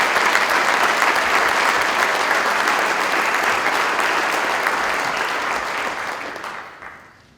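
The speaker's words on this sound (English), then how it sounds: "Let's give him a round of applause" A hall of fame ceremony audience gives a long, even round of applause, steady and full for about six seconds before it tapers away to silence.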